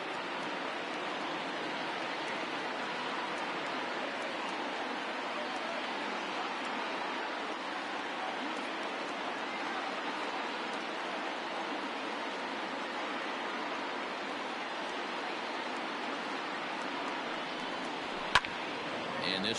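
Stadium crowd of over 39,000 in the video game MLB The Show 20 at a Giants versus Dodgers game, a broad, steady roar of cheering that holds evenly throughout, with one sharp click near the end.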